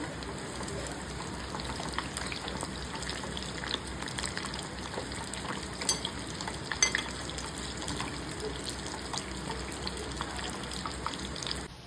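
Mini batata vadas fry in a pan, giving a steady, moderately faint crackling sizzle with small irregular pops throughout.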